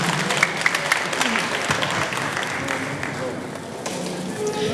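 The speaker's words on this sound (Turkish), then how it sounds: "Güzel bir alkış organizatörlerimize istiyoruz." Audience applause at a live stage event in Turkey, a crowd clapping steadily for the organizers, with voices and cheering mixed in under the clapping.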